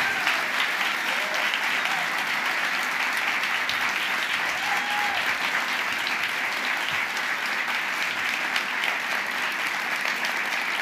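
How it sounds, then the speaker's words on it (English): Dense, steady applause from a live audience welcoming a speaker on stage, a continuous wash of many hands clapping at even loudness for about eleven seconds, with faint voices mixed in. "Please help me to give a rock star round of applause for Chad Abumrad."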